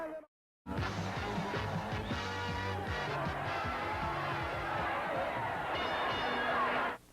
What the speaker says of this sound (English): A huge ovation from this large, enthusiastic crowd of War Memorial